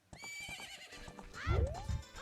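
A horse whinnies in a high, shaky neigh with a snort, amid some clattering hoof-like sounds; synthetic, game-like quality, from Zelda: Ocarina of Time.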